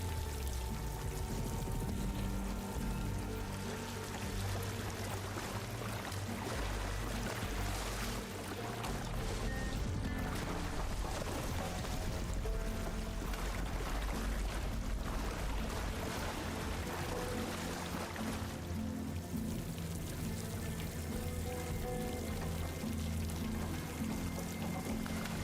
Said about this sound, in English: The water sounds so, like, crazy.